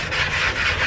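Sandpaper worked by hand over a car body panel marked with scratches and dents during a home repaint, giving a steady, close, continuous rasping rub with slight swells in strength and no talking.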